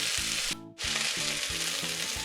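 Chicken drumsticks sear in a hot pan, a loud close sizzle that briefly drops out once, then resumes; steady tonal background music runs underneath.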